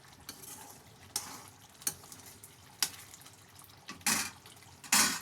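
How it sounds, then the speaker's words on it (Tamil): Tamarind paste for temple-style tamarind rice is stirred in a pan. A spoon scrapes and sloshes in brief separate strokes over a soft bubbling simmer, with louder strokes toward the end. "நல்லா கலந்து விட்டுப்போம்."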